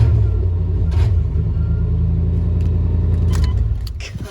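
A 1993 K1500 truck engine with a rough-running fault idles high in a loud, steady rumble, close up, with a few faint clinks over it and a slight drop at the end.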